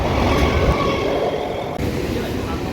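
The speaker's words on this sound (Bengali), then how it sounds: "বনগা লোকাল এসে গেছে" A Bongaon local train arrives at a station platform with a steady low rumble and rolling rattle of wagons, fairly loud and continuous, faint squeals above.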